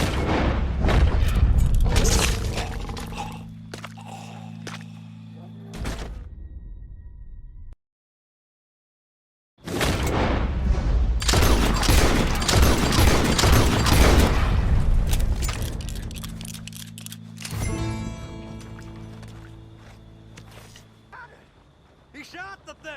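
Gunfire in the Western video game Red Dead Redemption 2: sharp booming shots in clustered bursts, mixed with game sounds and voices talking, then a silent gap and a second volley before things calm.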